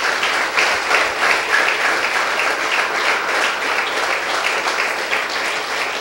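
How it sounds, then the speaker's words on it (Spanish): Audience at a Messianic radio broadcast breaks into steady, sustained applause, a dense wash of clapping that holds at an even loudness throughout with no talking over it. "le mandamos un fuerte aplauso en el nombre de Yeshua"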